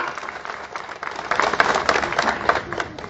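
A crowd at an outdoor political rally in Shiradhon claps to welcome panchayat samiti candidates, giving dense, sustained applause that swells midway and holds, loud and close.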